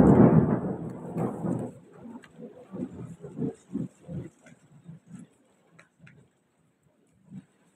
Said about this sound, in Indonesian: Hujannya tuh rintik sayang.